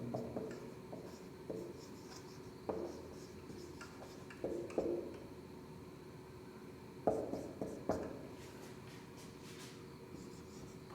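Chalk or marker scratches and taps against a board during a chemistry lesson on atomic structure in short, irregular strokes, close and fairly faint, with no speech.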